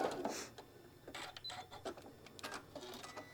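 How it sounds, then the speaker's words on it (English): A sewing machine stitching fabric with black thread during quilting, with quiet uneven bursts of mechanical whirring and clicking close by as it backstitches and then runs off the edge. "I'm going to come back a couple of stitches to secure it, and then I'm going to go right all the way off"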